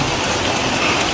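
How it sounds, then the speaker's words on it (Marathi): Heavy rain pours down in Ahmednagar city, a dense, loud, unbroken hiss of drops striking surfaces, close by and with no voices. "3-4 दिवस झाले भाई भयानक पाऊस येतोय."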